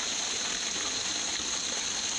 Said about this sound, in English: This is the final waterfall